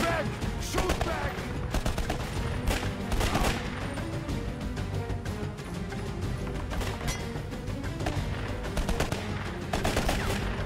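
Gunfire in the video game Conflict: Denied Ops, with rapid bursts of automatic weapons fire cracking repeatedly and loudly throughout, overlapping in dense volleys with short gaps between them.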